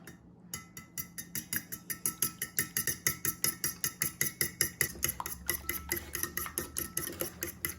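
Utensil whisking cream and a dash of vanilla into other ingredients in a bowl, a rapid, steady run of close clinking strokes against the bowl's side.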